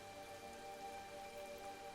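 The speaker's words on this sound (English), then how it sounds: "All those raindrops sliding down our window." Soft rain pattering on a window at night, a faint, steady wash of drops with no voices.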